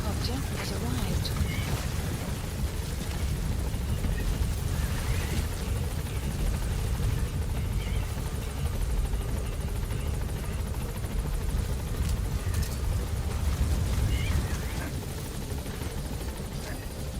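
In the Metal Gear Solid V video game, a support helicopter arrives with a loud, steady rotor roar and engine drone that fills the scene throughout.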